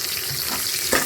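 Onions roasting in a pan for chicken biryani give off a brief, loud, continuous hissing sizzle with a small bump of stirring near the end.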